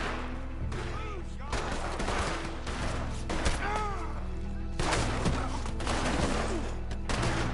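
Repeated rifle and pistol gunfire during a nighttime shootout in the Red Dead video game, with sharp cracks and bursts scattered over continuous background noise and occasional voices.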